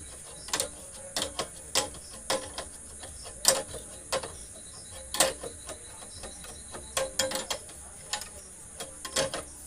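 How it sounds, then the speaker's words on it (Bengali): A ratchet wrench tightens a nut on a diesel engine head during a head fitting, producing a series of sharp, close metallic clicks in uneven bursts over a faint background. "এই নাটটা এখন টাইট দিয়ে দেবো"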